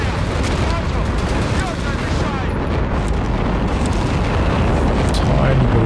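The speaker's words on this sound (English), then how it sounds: "He's coming down here with the Walking Stuka." Walking Stuka rocket artillery in a Company of Heroes 3 battle gives a dense, continuous roar of explosions and rumbling booms, loud and sustained, with battlefield noise filling the background throughout.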